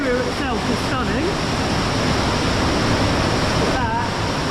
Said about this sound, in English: but that really isn't much of a fall